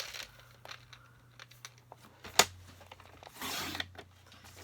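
Quiet snips and paper rustling come from peach-colored cardstock being cut for a flower pot card at a craft table, with one sharp crisp click partway through, followed by a longer soft scrape.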